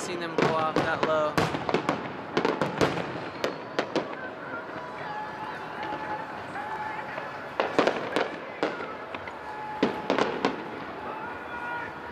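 July 4th fireworks in Sparks, Nevada burst unusually low, giving sharp repeated cracks and booms in clusters, with crowd voices talking throughout.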